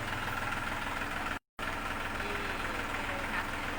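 A new farm tractor's engine idles steadily with a low, even rumble and faint knocking throughout, broken by a brief cut to silence partway through.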